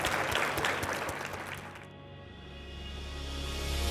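A crowd claps and applauds loudly for about two seconds, then the clapping stops abruptly, leaving a low hum.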